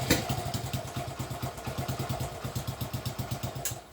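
A Honda C50 motorcycle engine idles after a kick start, with a steady fast putt-putt beat and mechanical clatter from close by, running evenly throughout.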